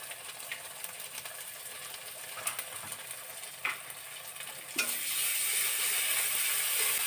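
Ginger and garlic paste is fried and stirred in a pan for chicken soup: scattered scrapes and light clicks at first, then a loud, continuous sizzle erupts for the last couple of seconds.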